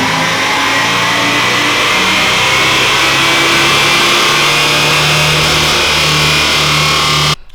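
A BMW E36 with an S54 engine revs hard on a dyno, a loud, sustained high-pitched engine roar that climbs steadily and holds before cutting off abruptly at the end.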